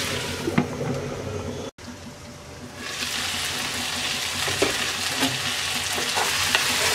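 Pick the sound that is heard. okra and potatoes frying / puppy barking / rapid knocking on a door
okra and potatoes frying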